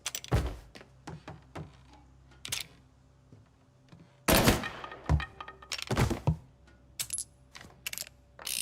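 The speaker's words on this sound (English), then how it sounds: "भाई कितनी गोली छोड़ रहा है एक बार में।" Gunfire in the video game Mafia: Definitive Edition comes as sharp, loud shots, single cracks and short rapid bursts spaced irregularly, with metallic clinks between them.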